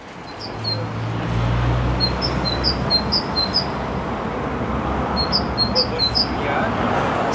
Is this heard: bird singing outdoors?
yes